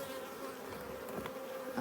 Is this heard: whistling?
no